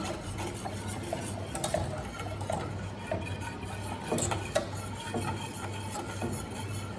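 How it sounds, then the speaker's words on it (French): Chocolate glaze for éclairs is whisked in a small saucepan on the heat, a soft continuous scraping and swishing with faint taps against the pan, quiet and without talk. "On va fouetter."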